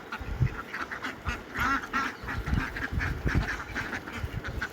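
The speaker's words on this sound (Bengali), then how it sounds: "এগুলো সব পাতি হাঁস" Several ducks quack repeatedly in a busy, overlapping chorus, fairly close, with rustling and scuffling underneath.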